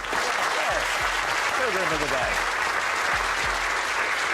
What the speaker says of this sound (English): Oh, he says stop clapping.